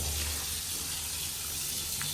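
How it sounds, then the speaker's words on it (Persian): Water from a hose rinses a computer motherboard in a steady, close, full-bodied gush that runs unbroken and fairly loud from start to finish. "برای آبکشی نهاییش هم دیگه شیلنگ آخر رو میگیریم"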